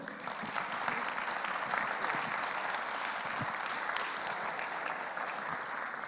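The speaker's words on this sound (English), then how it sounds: "let us give the biggest round of applause for everyone here." An audience at a plastic pollution conference event claps in sustained, even applause from start to finish, moderately loud and filling the room with no voices over it.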